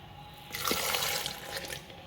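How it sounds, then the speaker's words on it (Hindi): Milk poured into a jug already holding eggs and mashed bananas, a close, steady liquid rush of about one and a half seconds after a quiet start, with no talk. "अब इसमें जाएगा दूध।"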